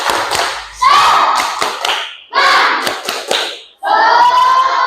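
Schoolchildren in a classroom perform a rhythmic spirit clap, loud close bursts of unison claps in patterned groups separated by short gaps, with their voices chanting along between and over the claps.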